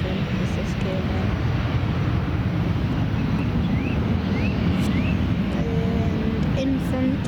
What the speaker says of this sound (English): that's the reverse from the Ethiopian